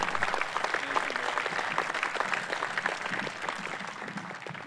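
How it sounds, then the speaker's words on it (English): A crowd at a groundbreaking ceremony gives a round of applause: steady, dense clapping for the whole stretch, fading slightly toward the end. "Let's give him a round of applause."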